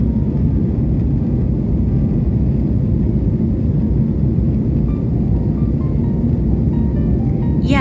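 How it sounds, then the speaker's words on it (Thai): Steady, loud cabin roar of an airliner climbing just after takeoff from Doha, heard from a passenger seat. The low rumble runs unbroken and even for the whole stretch, with no voices over it. "ตอนนี้เครื่องบินได้ทะยานขึ้นสู่ท้องฟ้านะคะ"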